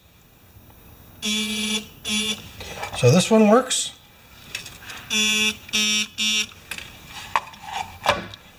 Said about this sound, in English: Now let's go to the buzzers. This is pretty wimpy, but it works.